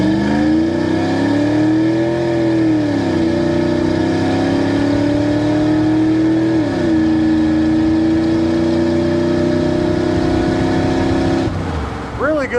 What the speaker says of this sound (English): Good performance from that Windsor, and the overdrive transmission shifts exactly like it should.